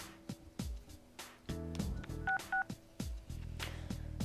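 A phone being dialed in the fighting game Persona 4 Arena: a quick series of distinct keypad tones with short pauses between presses, clear and fairly loud over quiet game music.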